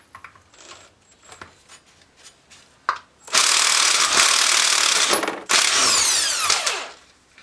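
A power tool whirs loudly in two long bursts, likely an impact gun, taking off a 27 mm left-hand thread clutch nut on a Honda Fourtrax 300 TRX300 ATV engine, with quiet handling clicks before it starts.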